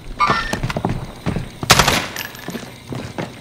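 Rapid bursts of Uzi submachine-gun fire in the Call of Duty: Modern Warfare video game, several loud, close automatic volleys crackling in quick succession with short gaps between them.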